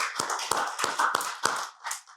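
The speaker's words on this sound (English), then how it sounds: "That's something to applaud" Church congregation applauding indoors, a short burst of claps with several louder sharp strikes standing out over the steady patter, tapering off at the end.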